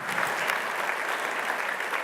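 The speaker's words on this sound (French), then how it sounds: "je voudrais qu'on les applaudisse" Steady applause from an audience at a MEDEF 54 business employers' event, dense and sustained clapping throughout with no pauses.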